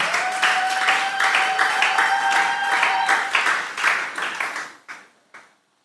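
A church congregation applauds during a sermon, dense steady clapping from many hands that swells, then tapers and thins out near the end, with a few sustained tones ringing underneath.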